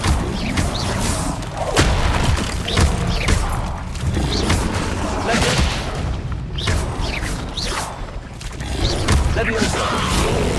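Incendio fire spell cast repeatedly in the Hogwarts Legacy video game, heavy booming bursts and whooshing blasts layered over dense, continuous battle noise.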